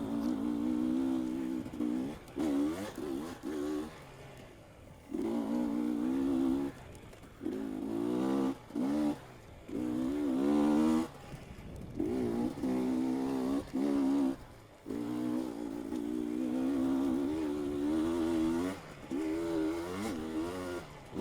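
Race car engine in the TORCS racing video game, a buzzing, high-revving drone that repeatedly rises in pitch through the gears and cuts off abruptly between bursts, steady and fairly close.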